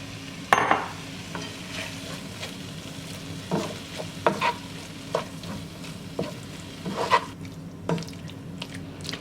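Salsa and taco seasoning being stirred together with sautéed green pepper and onion in a pan, a close, steady sizzle broken by repeated scraping spoon strokes.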